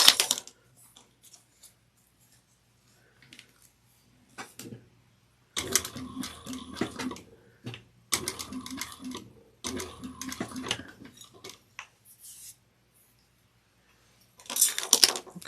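A sewing machine stitching a drawstring satchel runs in three close bursts of rapid mechanical whirring, separated by short pauses and light handling clicks, with a brief extra run at the very end.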